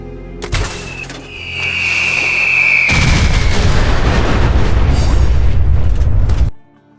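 A nuke explosion in Fallout 4 begins with a rising whistle and scattered pops, then a massive rumbling blast roars loudly for several seconds before cutting off abruptly.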